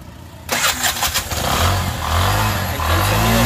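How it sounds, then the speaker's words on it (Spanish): Bajaj Torito three-wheeler engine fitted with a new four-stroke muffler starts up abruptly after a brief quiet moment, then runs loud and close with a steady low rumble and slight rise in revs. "Ahí está el sonido con la tetería."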